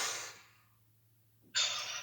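A forceful exhale through the mouth after a held breath during a guided sophrology relaxation exercise: one breathy rush that fades out, a quiet pause, then a second strong outward blow, close and alone.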